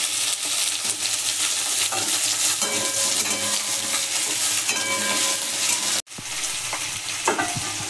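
Potatoes added to oil with fried cumin and onion hiss steadily in a home-kitchen pan while a utensil stirs and scrapes against the metal; the sizzle briefly cuts out, then resumes.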